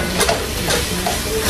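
Oil sizzles in a home kitchen pan as food begins to fry, a steady close hiss with faint crackles throughout, no voices over it.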